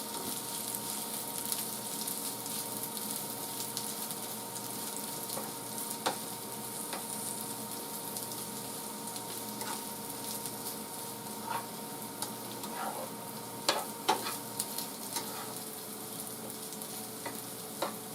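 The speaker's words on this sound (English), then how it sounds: "I'm making fried potatoes, so that's why I'm adding oil." Chunks of potato fry in hot oil with a steady, crackling sizzle throughout, punctuated by occasional pops and stirring clicks, no voices.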